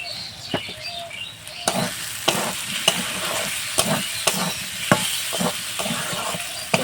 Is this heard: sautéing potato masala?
yes